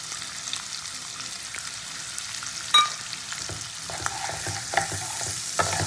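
Chilli chicken ingredients are stirred in a frying pan, with a soft continuous sizzle and scattered scraping and tapping strokes of the spoon, one sharper clack midway, close and moderately quiet, no talk.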